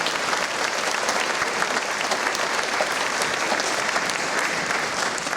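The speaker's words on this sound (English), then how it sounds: "Give them a round of applause." Sustained, dense applause from a large audience fills a nursing pinning ceremony hall, a steady even wash of many hands clapping with no talk over it.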